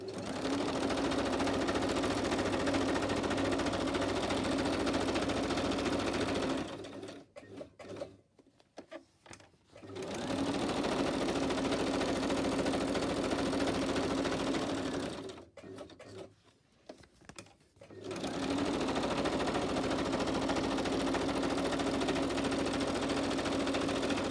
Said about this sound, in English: I'm going to stitch all the way around.